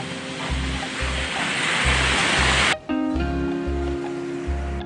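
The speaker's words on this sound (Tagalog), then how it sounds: "In-enjoy namin ang tunog ng dagat at hampas ng alon." Sea waves wash onto the shore at an open beach resort, a broad steady rush of surf that cuts off abruptly partway through, after which only quieter background tones and a low pulsing beat remain.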